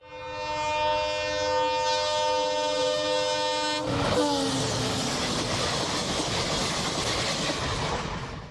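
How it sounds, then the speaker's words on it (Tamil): An electric train on a test run between Bodi and Madurai sounds a long, loud horn blast, then rumbles and roars past close by with rushing wheel noise. "தேனி மாவட்டம் போடியிலிருந்து மதுரைக்கு நேற்று மின்சார ரயில் சோதனை ஓட்டம் நடந்தது"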